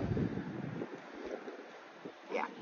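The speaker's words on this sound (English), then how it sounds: "17, 18 degrees. Cloudy, windy." Wind on a cloudy, windy day on the Maspalomas dunes in Gran Canaria: rough gusty buffeting against the microphone, strongest at the start and again near the end, with no talk.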